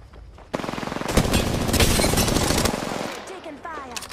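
Rapid automatic gunfire from the Apex Legends video game, a dense burst of shots lasting a couple of seconds with game effects trailing off afterward.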